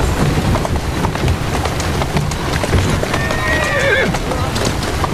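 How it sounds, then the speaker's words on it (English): Hooves clip-clop steadily under a heavy rain-like hiss, and a horse neighs loudly partway through, in the video game Assassin's Creed Syndicate. "Who's a good horse?"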